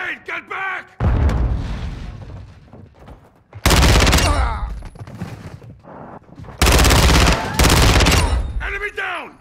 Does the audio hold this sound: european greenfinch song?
no